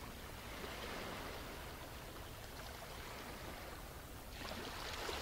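Steady broadband wash of ocean waves on a beach, a continuous rushing surf sound at constant level with a slight swell of brighter hiss near the end, no voices.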